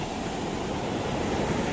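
Sea waves surge onto a beach near a river mouth at high tide, a dense, continuous roar of surf that stays loud and unbroken throughout.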